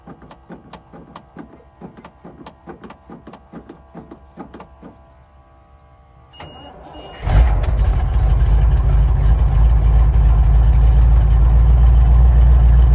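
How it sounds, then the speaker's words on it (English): A Chevrolet logging truck engine cranks with a rapid rhythmic starter chug for several seconds, then catches and settles into a loud, steady close idle with no talk. "See how it just cranked right up that time?"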